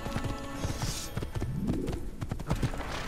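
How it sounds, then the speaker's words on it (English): Horse hooves clip-clop at a steady run through a town in the Assassin's Creed video game, rhythmic and fairly close, with a sliding whinny-like sweep midway and background crowd ambience. "I can drift with a horse?"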